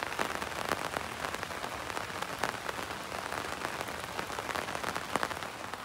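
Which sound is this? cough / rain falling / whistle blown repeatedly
rain falling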